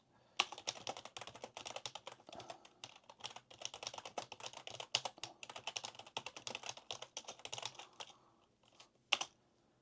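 A computer keyboard is typed on rapidly and close by as a poll is set up, producing a dense, irregular patter of crisp key clicks that thins out near the end with a final sharp tap.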